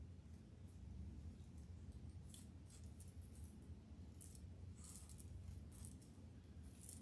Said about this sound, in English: I'm going to cut the pipe cleaners